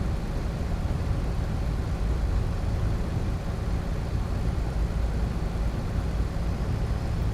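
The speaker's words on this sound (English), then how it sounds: "Get some more of those truck sounds in." A truck engine in Euro Truck Simulator 2 drones steadily throughout, a constant low rumble with broadband road noise that stays even and moderately loud, with no talking.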